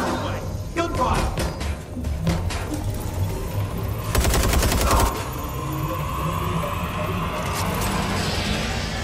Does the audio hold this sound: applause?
no